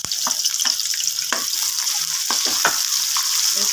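Onions sizzle and crackle steadily in hot oil for a chicken gravy, a dense continuous fry with scattered sharper pops and no talking.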